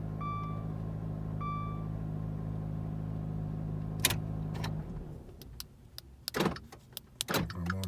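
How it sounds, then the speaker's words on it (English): A 2016 Dodge Dart sits with steady electronic tones and a low hum, then the starter cranks and the engine catches and runs, with clicks and rattles nearby after it fires. "Okay, start the car."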